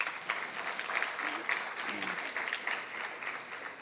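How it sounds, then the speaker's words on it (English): An audience claps through a scholars' program welcome event, with steady, moderately loud applause spread across the hall and a few brief voices rising over it. "I think we can clap again."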